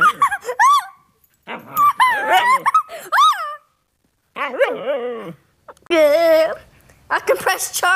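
Several dogs barking excitedly nearby, loud bursts of yips, barks and whines in quick irregular clusters with short pauses between them.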